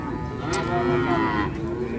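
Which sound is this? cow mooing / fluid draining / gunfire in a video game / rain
cow mooing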